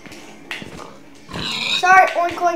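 A giant pig in the Minecraft video game lets out oinking grunts, mixed with excited voices talking over and around the squeals at close range.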